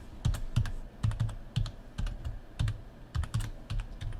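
A password is typed on a computer keyboard up close: quick, rhythmic clusters of crisp keystrokes with short pauses between them.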